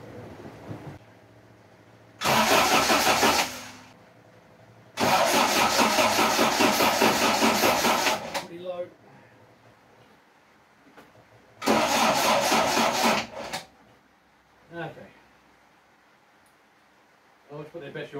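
A Vauxhall Firenza HPF is cranked by its starter in three long, loud grinding bursts that fail to catch, with a quiet hum and brief talk in the pauses.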